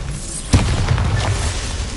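A Bombarda blasting spell goes off in Hogwarts Legacy, one sharp, loud boom followed by a rumbling, crackling tail that fades slowly over the next second and a half.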